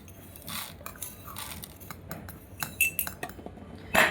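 A spoon adding sugar, with metal scraping and clinking against a dish or pot, scattered light taps and one sharp chink near the end, close and moderately loud.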